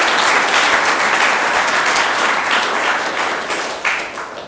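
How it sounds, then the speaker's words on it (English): Conference audience applauding volunteers at the Linux Australia annual general meeting, a loud, sustained roar of many hands clapping that tapers off toward the end. "So I would like to give a round of applause to all the volunteers of all types."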